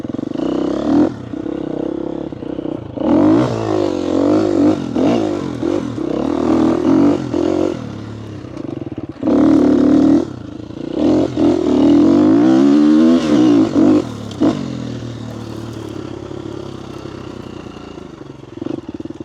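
A motorcycle engine revs and surges through laps on a small practice track, loud and close, rising and falling in repeated throttle bursts with pitch sweeps as it shifts and turns.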